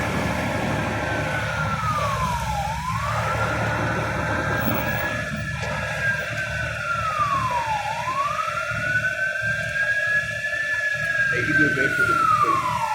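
A fire engine's wailing siren rises and falls in long sweeps as it arrives at a burning recycling bin site on a street in Győr, sounding moderately close over a low rumble of traffic and engine noise.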